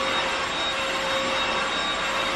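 Cordless vacuum cleaner running at a power level, a loud, steady whine with a sharp motor tone over rushing air, close and unbroken.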